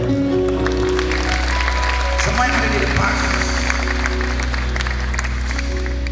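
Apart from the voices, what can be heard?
applause from church congregation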